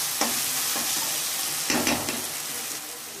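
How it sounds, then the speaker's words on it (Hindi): Ginger and garlic fry in a pan for an egg curry, a steady hiss of sizzling oil with a couple of louder bursts as the mixture is stirred. "अदरक लहसुन को थोड़ा सा भूनिएगा ताकि उनका जो कच्चापन है वो चले जाए।"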